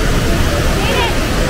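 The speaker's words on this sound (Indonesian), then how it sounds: "Jadi kayak gini nih air terjun yang kita datangin tadi pagi." A waterfall visited in the morning gives a loud, steady, broadband rushing roar that fills the scene, with voices talking underneath.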